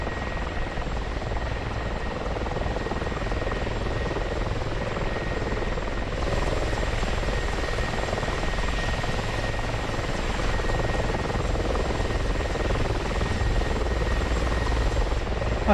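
A helicopter rotor in the DCS flight simulator game gives a dense, steady, loud whirring drone that runs unbroken throughout with no voices.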